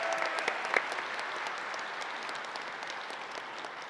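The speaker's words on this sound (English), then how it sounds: "let's give her a round of applause" Audience applauds at a university spring convocation for architecture, planning and landscape architecture, welcoming the dean; steady, dense clapping from a crowd, moderately loud and sustained throughout without speech.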